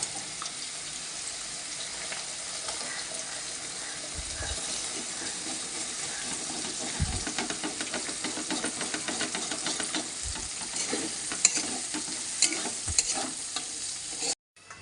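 An egg frying in a pan with already fried potatoes gives a steady, even sizzle, broken by a few soft low knocks of a utensil. No one speaks.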